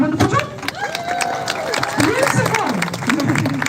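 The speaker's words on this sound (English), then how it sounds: "everyone's going to cheer and clap because you're doing a wonderful job" An audience at a sea lion show cheers and claps with applause and crowd noise. A presenter's voice carries over the top through the whole stretch.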